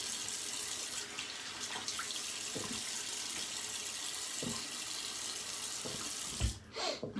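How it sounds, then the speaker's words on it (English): A tap runs for a cold water rinse after a wet shave, a soft, steady trickle in a bathroom with a few faint knocks and splashes, ending in a louder clatter near the end. "And for cold water rinse."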